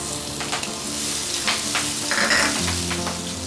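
Green and red chillies drop into hot oil with cumin and turmeric, giving a steady close sizzle and frying crackle with a few stirring scrapes, and no voices.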